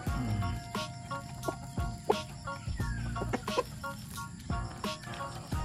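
Free-range backyard chickens cluck in a farmyard, with repeated short calls from several birds scattered close by and a brief rooster crow partway through.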